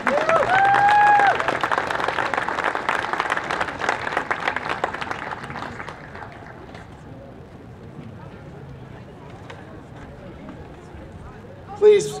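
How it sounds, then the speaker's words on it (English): Audience applause at an outdoor Indigenous Peoples Day 2019 event in Santa Fe, New Mexico, loud clapping and crowd noise for about six seconds that then fades away, with faint background sound after. "Please, another round of applause for Governor Herrera"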